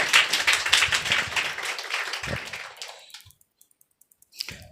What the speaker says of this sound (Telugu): చప్పట్లు కొట్టి ప్రభువుని కనపడదాం.